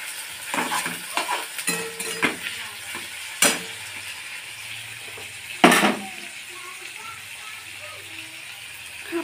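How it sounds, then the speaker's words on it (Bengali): Chicken mince and fried onions sizzle together in a pan for a chicken Mughlai filling, a steady fry punctuated by sharp scrapes and clanks of a spatula stirring. "কিমাটা একসাথে ভেজে নেব।"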